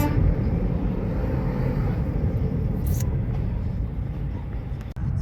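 A car's engine and road noise rumble steadily from inside the cabin while it drives, a low continuous drone with a brief click near the end and no talking.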